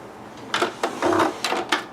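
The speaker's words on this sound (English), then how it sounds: "We are going to baste it with the sewing machine." Sewing machine basting gathered fabric, short bursts of rapid mechanical stitching, about four or five runs with brief pauses between, close and clear with no talk.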